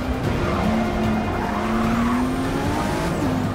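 Race cars in the Forza Motorsport 6 video game roar steadily, with a continuous engine drone, rising and falling pitch and some tire squeal, loud and close, with no talking.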